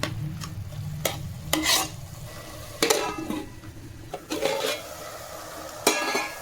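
Mutton keema curry with ginger-garlic paste is stirred in a pan, with repeated sharp scrapes and clanks of a spoon against metal over a low, sizzling simmer, close and fairly loud.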